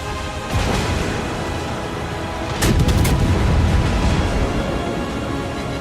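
Warship main guns firing armor-piercing shells in the naval combat game World of Warships, heavy booming salvos over a constant rumbling battle background, with one louder burst of fire partway through.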